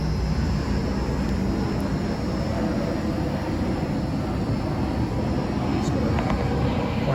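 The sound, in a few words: airplane flying over on airport flight path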